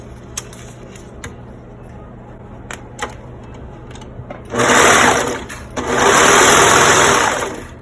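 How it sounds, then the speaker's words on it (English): A domestic sewing machine stitches cotton fabric for a face mask: scattered clicks and taps first, then two loud, steady whirring bursts of stitching, close up with no talk. "then we're going to sew the bottom straight across"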